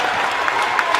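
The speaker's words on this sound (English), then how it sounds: "Their crowd on our side gets loud as well." Crowd noise from a girls basketball championship game between Locust Valley and Floral Park: a dense, continuous roar of cheering and clapping in a gym, with a few sharper shouts poking through.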